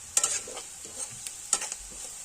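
Kinema, a fermented soybean dish, fries with turmeric and chili powder, making short close bursts of sizzle and stirring scrapes over a faint background; no voices.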